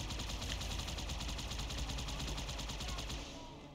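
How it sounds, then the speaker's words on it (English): Sustained rapid automatic gunfire in the video game Halo 2, a dense continuous rattle of evenly spaced shots that fades slightly at the end. "Some little fucker is shooting me."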